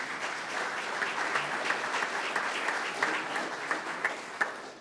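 A room full of people claps for volunteers in a sustained round of applause, with a few sharper individual claps standing out near the end.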